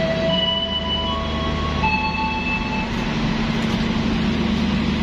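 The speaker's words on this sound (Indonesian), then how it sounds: "Jadi kita keretanya berhenti di peron selatan kalau tidak salah ya." The Lodaya Malam passenger train, a New Generation trainset on the Bandung to Solo Balapan route, rumbles steadily and squeals faintly as it stops at a station platform, heard continuously from on board with no talk.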